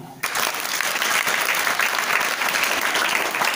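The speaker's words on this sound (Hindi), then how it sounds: "2 याद के लिए ताली।" Sustained applause from a classroom or lecture audience at a science demonstration, starting abruptly and continuing loud and dense without letup.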